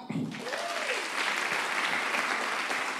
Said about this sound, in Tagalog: Yung tunay na masaya, pumalakpak